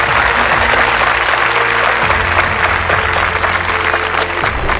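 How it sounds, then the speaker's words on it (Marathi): A seated audience at a Marathi investment talk applauding loudly and steadily, a dense wash of clapping from many hands lasting the whole stretch, close and unbroken. "जोरदार टाळ्या झाला पाहिजे"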